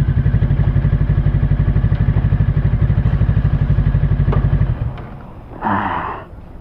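An FKM Falcon x400 motorcycle chugs loudly in second gear with the clutch half engaged, a fast rhythmic pulsing that cuts off near the end, followed by a short burst of other noise.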